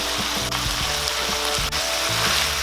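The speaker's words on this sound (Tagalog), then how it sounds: "Papakuluin muna natin." Beef innards boil in a pot, giving a steady bubbling, sizzling wash with soft clicking pops recurring throughout, close and continuous with no talking.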